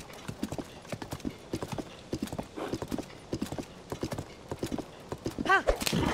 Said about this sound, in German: Mit dem Pferd kann man dann auch prima manchmal an Gegnern vorbeireiten